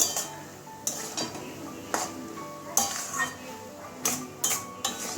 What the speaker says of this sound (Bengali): এবারে আবারও মিশিয়ে দেবো একদম আঁচটা কমিয়ে রেখে দিয়েছি ভালো করে মিশিয়ে দেবো